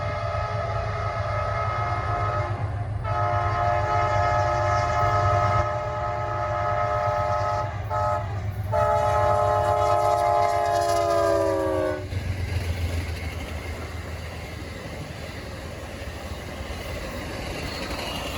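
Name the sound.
Amtrak Southern Crescent train passing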